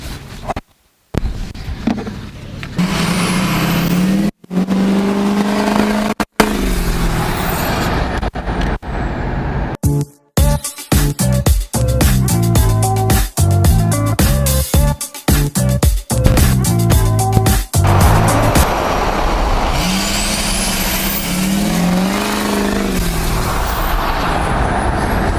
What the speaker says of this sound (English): we're here now at the car show